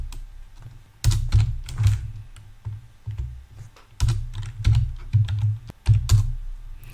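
Computer keyboard typing a command, with clusters of quick, close key clicks broken by short pauses and a few heavier keystrokes.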